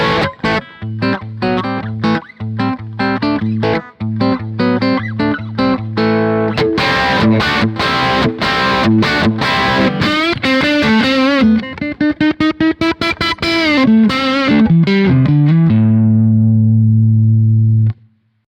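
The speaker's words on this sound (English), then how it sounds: "If I hit the strings hard, you should hear a well-distorted sound." An electric guitar plays through a Kemper amp profile with heavy distortion. Loud chugging, palm-muted riffs and sustained chords run for the whole passage, ending on a long held note, with no voice over it.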